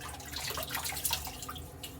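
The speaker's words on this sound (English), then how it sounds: "Get a little water on her face." Water splashing and dripping close by as a face is wetted at a sink before a wet shave, a short run of irregular splashes and drips with no talk.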